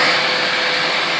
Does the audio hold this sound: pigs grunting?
no